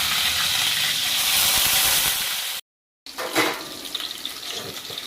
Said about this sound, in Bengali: এবার কপিগুলো ভাজা হবে গরম তেলের মধ্যে।